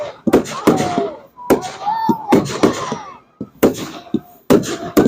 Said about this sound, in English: Guys, these are really nice fireworks.